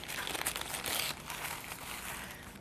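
Sheets of gray art paper rustle and crinkle close by as they are handled for a collage, a continuous papery crackle with a louder burst in the first second, then steadier softer rustling, with no talking.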